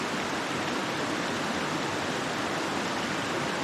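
Steady broadband rush of a creek flowing in the Smoky Mountains, continuous and close, with no pauses or voices over it.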